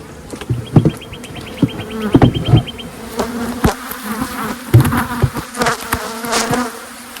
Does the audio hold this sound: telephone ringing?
no